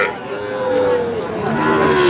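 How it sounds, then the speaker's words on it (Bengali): A young heifer calf moos once, a long loud drawn-out call close by, with a slight rise and fall in pitch. "আট হাজার টাকায় বকনা বাছুর"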